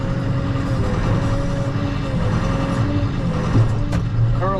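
A John Deere 6120E tractor with a front loader on a global quick attach idles and works steadily, its diesel drone continuous with hydraulic whine shifting in pitch as the attachment curls, plus a brief clunk near the end.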